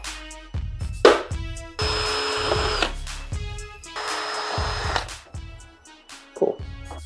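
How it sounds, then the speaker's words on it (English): A power drill boring a small hole into a plastic piece, whirring in two sustained bursts of about a second each between sharp clicks and knocks, loud and close with no talk. "So now we gotta drill this little tiny hole in here."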